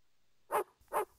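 A dog in a video game barks twice in quick succession, two short, clear, fairly close woofs about half a second apart against near silence.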